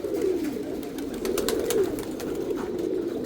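Male and female pigeons coo together in a steady, overlapping low warble, close by and continuous, with faint scattered clicks and rustles.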